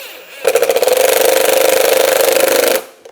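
A power driver snugs down the screws on a window regulator motor of a 2011–2025 Dodge Durango, giving one loud, steady buzzing whir of about two seconds that starts and stops abruptly.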